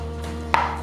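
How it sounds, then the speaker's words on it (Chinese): A knife cuts through a Chinese yam, giving a single sharp chop against a cutting board. A steady low hum runs underneath. "把山药切一半"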